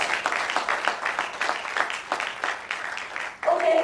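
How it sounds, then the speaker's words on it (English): Applause at a university debate, a moderately loud patter of clapping hands that continues steadily for several seconds before fading as a voice begins to speak near the end. "Can you please give them a round of applause?"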